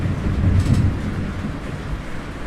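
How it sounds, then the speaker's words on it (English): A thunderstorm rumbles low and continuously with rain, a heavy, dense roar swelling slightly early on, with no voices. "Oh god, thunderstorm."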